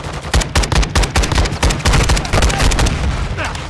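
Video game gunfire: loud, rapid bursts of shots crack in quick succession with heavy booming thumps, a dense, continuous barrage close by, and no voices heard.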